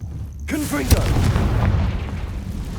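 A Confringo fire spell explodes in the Hogwarts Legacy video game, a sharp booming burst near the start followed by a sustained rumbling blast and crackle, with a voice calling out briefly over it.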